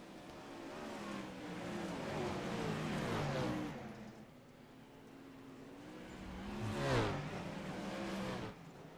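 Race cars on a dirt speedway in a racing sim, engines droning and revving in a pack, swelling loud then easing before another car surges past.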